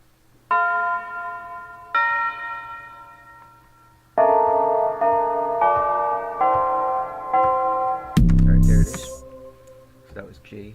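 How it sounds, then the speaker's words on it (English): Ringing electronic bell tones in an FL Studio trap beat play a repeating melodic pattern on G, each note struck and decaying, speeding up before a deep, heavy hit lands near the end. "We're gonna get our bell."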